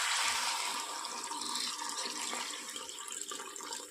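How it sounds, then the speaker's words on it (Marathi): Water gushes and splashes steadily into a cooking pot of sprouted moth beans, a continuous rushing pour that holds for several seconds without any voices. "आता त्यामध्ये मी पाणी टाकते."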